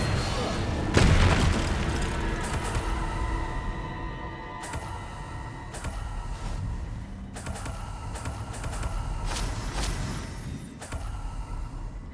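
Spell explosions in the wizarding game Hogwarts Legacy: a big blast about a second in, then several more sharp bursts and booming hits spread across the stretch amid rumbling game noise and some talk.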